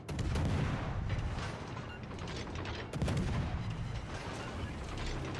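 Warship main guns fire repeatedly in World of Warships Legends: a run of heavy, loud artillery blasts with rolling booms, a fresh salvo hitting near the midpoint, with no talking over it.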